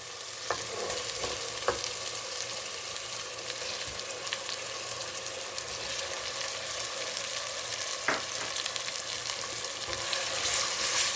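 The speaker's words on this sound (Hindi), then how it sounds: "प्याज के साथ हम अदरक लहसुन का पेस्ट भी फ्राई कर रहे हैं।" Mutton sizzles steadily in a pan with onion and ginger garlic paste for aloo gosht, a continuous close frying hiss broken by a few sharp stirring clicks, with no voices.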